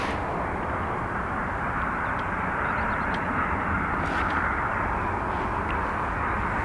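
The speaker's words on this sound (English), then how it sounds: "The UPS is on approach" A UPS cargo plane on approach to Dublin Airport gives a steady, broad engine roar that holds at an even level throughout, with no voices.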